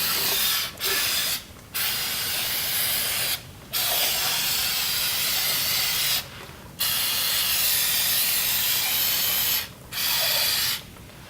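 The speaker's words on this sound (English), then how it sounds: "We clean it up with some brake clean." Brake cleaner sprays onto an engine part during a VG33 timing belt replacement, with loud, sustained hissing bursts broken by short pauses.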